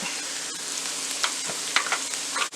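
Capsicum pieces fry in a pan with a steady, bright sizzle, broken by a few utensil scrapes and clicks from stirring, close and fairly loud throughout.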